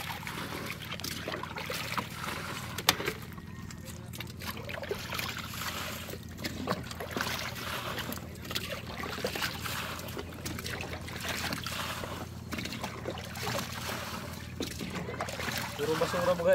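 A large volume of water flows strongly, making a continuous rushing and trickling wash that runs at an even level, with a person talking over it.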